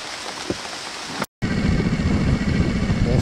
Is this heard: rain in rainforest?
yes